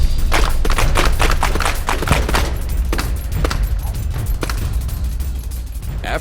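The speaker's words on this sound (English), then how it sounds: "After an intense firefight" Gunfire in a dramatized firefight, a continuous loud barrage of overlapping shots and thuds with sharp repeated cracks throughout.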